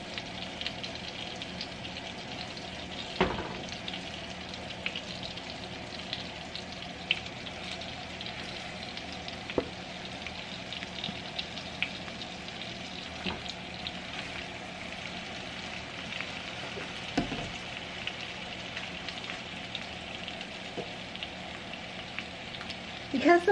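Thick pork chops browning in a pan, giving a steady, moderate sizzle and crackle that runs throughout with a few louder pops and clinks.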